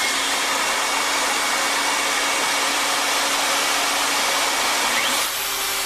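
A handheld wood router with a vacuum attachment runs continuously, a loud steady high-pitched whine with broad airy noise, close and alone, shifting slightly in pitch just before stopping.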